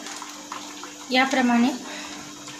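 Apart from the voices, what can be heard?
potato chips lifted out of water into a strainer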